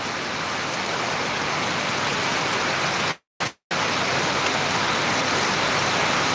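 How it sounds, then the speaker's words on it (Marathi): Heavy monsoon rain pours onto farm fields in Buldhana as a dense, loud, continuous roar. A brief dropout near the middle breaks it for a moment before it resumes just as strong. "बुलढाण्यामध्ये पुन्हा पावसाचा जोर वाढताना दिसतो आहे"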